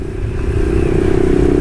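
A cold Honda Twister flex motorcycle engine idles roughly up close, a loud steady rumble with uneven clattering pulses and no talk.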